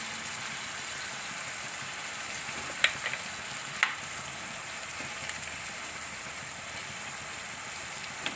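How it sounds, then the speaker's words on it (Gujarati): Peas and black-eyed beans frying with turmeric and spices in oil, a quiet even sizzle with two or three faint utensil clicks, no speech. "આપણે એકાદી મિનિટ તેલમાં સડવા દીધું"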